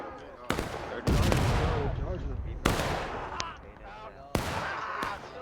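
Gunfire volleys boom out in a multiplayer video game battle, with several loud, sharp, echoing bursts each trailing into rumble. A commentator talks over the shots.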